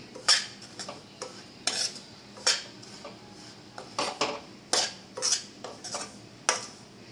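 Bombay semolina (rava) frying in ghee while being stirred with a metal spoon, giving a series of sharp scraping clinks against the pan at an uneven rhythm over a faint sizzle, close up and with no talking.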